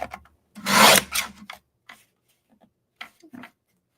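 Card paper is trimmed with a few short rasping cuts close by, one longer stroke followed by several brief, fainter snips and scrapes separated by quiet gaps.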